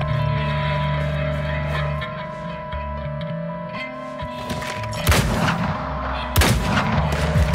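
Shotgun blasts in the Weird West video game come as two heavy, broadband booms over a dense, droning game soundscape of music and ambience, loud and close.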